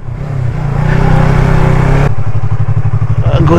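Loud, close motorcycle engine labouring along a rough, broken mountain road, a steady droning rumble with rattling clatter from the uneven surface.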